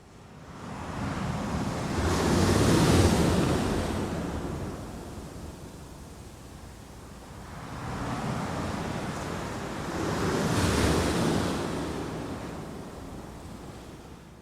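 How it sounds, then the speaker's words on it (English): Ocean waves at Búzios, Brazil, a former fishing village, roll in as two slow, broad surges of surf that swell and fade, with a soft wash between them and some wind. "I read that the first sound is the ocean."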